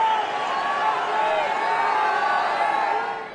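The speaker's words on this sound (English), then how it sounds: "Resounding cheer around the ground for the new batsman for India." A cricket crowd at an India versus West Indies match roars and cheers for India's incoming batsman, a sustained, swelling wall of voices around the ground that fades slightly at the end.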